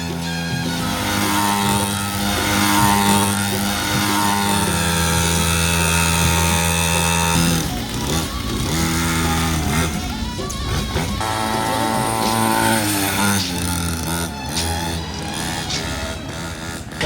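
A two-stroke mini dirt bike engine runs nearby with a loud, steady buzzing drone that shifts pitch as it revs up and down over about seventeen seconds, with no talking.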